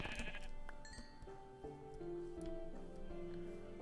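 Sheep in a sandbox-style video game let out repeated faint bleats over quiet background game sounds, several short wavering calls overlapping at a distance.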